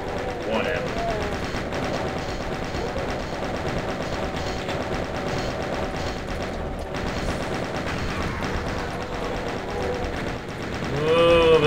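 Chaingunner enemies fire chainguns in the video game Doom, a continuous rattling stream of rapid shots mixed with game music and mechanical clatter, steady and moderately loud throughout.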